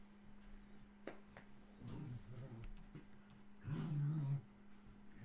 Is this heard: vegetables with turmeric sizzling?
no